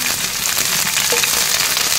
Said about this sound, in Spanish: Vamos ya a poner la cebollita. Ahí, que chille.